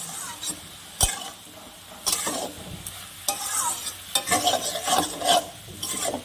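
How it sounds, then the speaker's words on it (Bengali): Dried lote fish being stir-fried with spices and onion in a pan, giving a close, busy sizzle with continuous scraping and stirring strokes and a sharp knock near the start. "দিয়ে এবার আমি ভালো করে মশলা সহকারে কষিয়ে নিব পেঁয়াজের সাথে।"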